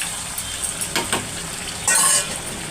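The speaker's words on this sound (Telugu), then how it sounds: "ఒక 5 మినిట్స్ పాటు ఇలా కుక్ చేద్దాం సిమ్లో పెట్టి" Tamarind cooks on a low flame in a pan: a soft sizzle sits under a few quick scraping stirs, then a brighter hissing burst follows, close and short.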